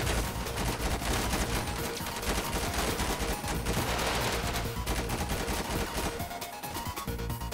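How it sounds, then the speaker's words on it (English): Sustained, dense gunfire from a SWAT police shootout in GTA 5, with loud, close automatic bursts and overlapping shots running unbroken through the whole stretch. "there was a guy all the way on the other side shooting at us"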